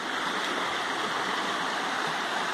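Steady, dense rushing of a rain-swollen river in Guaranésia, Minas Gerais, loud and continuous throughout with no pauses or voices.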